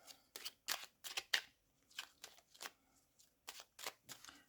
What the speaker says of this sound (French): je vais vous prendre une petite carte des anges